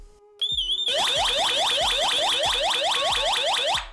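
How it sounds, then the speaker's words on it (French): A loud, piercing electronic siren from a Cozoney smart home alarm, wailing in rapid repeating up-sweeps, starting after a brief chirp and sounding continuously close by. "Quand on fait sonner l'alarme, celle-là aussi va se mettre à sonner"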